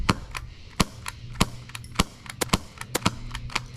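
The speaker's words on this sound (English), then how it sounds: "We'll just keep shooting it until we get 10 on the target." Rapid sharp pops from a cheap airsoft gun firing BBs at a target, a dozen or so uneven shots in quick succession, close and crisp with no talking.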